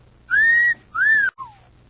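A person whistles two clear sustained notes followed by a short falling note, close and alone against silence.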